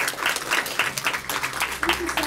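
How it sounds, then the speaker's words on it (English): Brief scattered clapping from an audience applauding Kathy, light and uneven, mixed with people talking over it. "let's give Kathy a round of applause"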